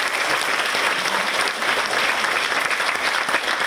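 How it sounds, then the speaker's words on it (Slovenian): An audience in a concert hall at a Mother's Day concert claps steadily in a dense, continuous round of applause, loud and even throughout. "pa gre tudi moji sovoditeljici Piji Hladnik, dajte jim velik aplavz"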